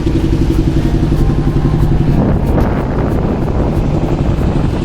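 Steady, loud wind rushes and buffets across a flooded haor wetland in rural Bangladesh, a continuous gusty roar with no voices over it.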